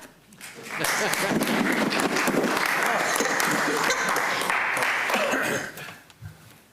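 A meeting audience breaks into applause, a dense burst of clapping that holds for several seconds before fading into a cough and murmurs.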